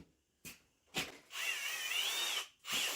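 A power drill whines through metal during steering rack removal on a 2008 vehicle in a few short bursts, then one long sustained run with a rising pitch, loud and close.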